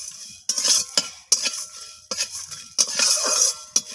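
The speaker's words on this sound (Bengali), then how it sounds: "এরপর আমি এটাকে নাড়াচাড়া করে ভেজে নেব, পুড়ে না যায় সেটা খেয়াল রাখতে হবে।" Whole garam masala spices are stirred with a metal utensil in a hot wok, making about six brisk scraping clinks in an uneven rhythm, close and fairly loud, with no voices.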